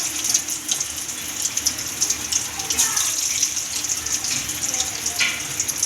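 Chicken 65 fries in hot oil in a pan with a steady, close hiss and crackle of sizzling. A voice talks over it now and then.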